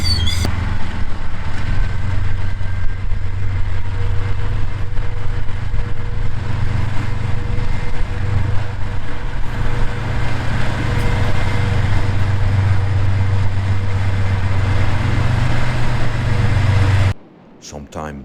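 A diesel locomotive on a single-track line in Kazakhstan powers up its engines, a loud steady low rumble with droning mid tones holding continuously before cutting off near the end.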